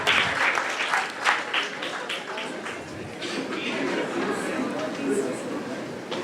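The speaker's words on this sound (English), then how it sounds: "Give a good round of applause" Applause from the audience at a short film festival, a moderate scattered clapping that starts close and fairly loud, then thins out under ongoing talk in the room.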